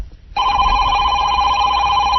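A telephone rings at the start of a prank phone call, a loud, steady electronic ring that begins abruptly after a short quiet moment and continues alone.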